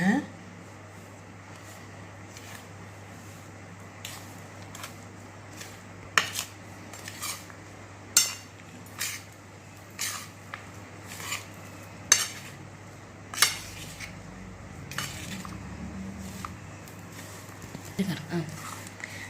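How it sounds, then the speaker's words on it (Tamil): A spoon mixing the ingredients of homemade rasam powder in a metal vessel, giving repeated clinks and scrapes in an irregular rhythm over a faint background hum, with a voice heard at times. "எல்லாத்தையும் கலக்கிடலாங்க"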